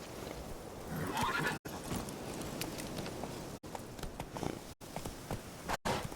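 A horse in The Witcher 3 walks with a steady clip-clop of hooves and gives a clear neigh early on. A bed of ambient game sound runs underneath, cut by a few abrupt gaps, and no one speaks.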